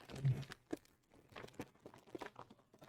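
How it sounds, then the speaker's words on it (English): Close, soft crunching from chewing fruit gummies, a series of irregular bites and mouth sounds over quiet background, fairly faint. "Sorry if you can hear the crunching a lot."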